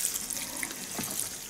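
Water trickles and pours quietly into the soil of a large cactus in a bigger pot, a faint, continuous liquid sound with no talking.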